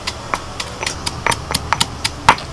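Hard fried lentil dumplings are snapped apart by hand, producing a quick series of a dozen or so sharp dry cracks and crunches at an uneven rhythm, close and fairly loud.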